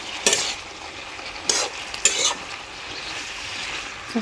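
Bottle gourd leaves being stirred and tossed in a hot frying pan, with a steady sizzle under three distinct scraping strokes of a spatula, fairly close and moderately loud, with no voices.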